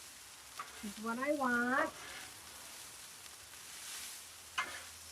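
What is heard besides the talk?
rice frying and being stirred on a griddle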